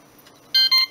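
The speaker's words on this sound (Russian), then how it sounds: "T-Mobile-овский рингтон будильника." Two quick bright electronic beeps, loud and close after near silence, from the T-Mobile alarm clock tone of a Siemens CT65 phone, the T-Mobile variant of the C65.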